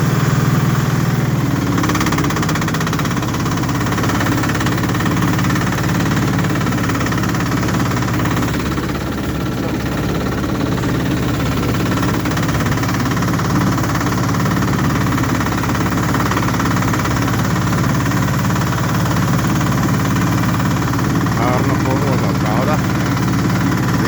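A mower engine running through a winter field, a loud continuous close drone with steady vibration and no clear start heard, while someone talks over it at times.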